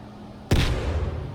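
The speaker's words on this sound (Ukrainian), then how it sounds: "звук падаючої гранати буде тим, що ти запам'ятаєш надовго" A thrown grenade bursts with a sudden loud bang in S.T.A.L.K.E.R. 2. The blast follows a quiet moment and leaves a long, rumbling tail that slowly fades.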